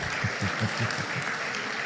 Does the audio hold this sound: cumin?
no